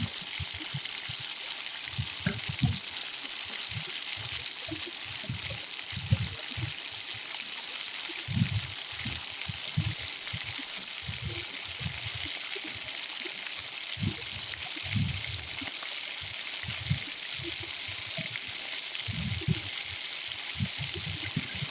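Potato flower pitha snacks fry in oil in a wok at medium heat, giving a steady, even sizzle with soft bubbling crackles throughout and no talk.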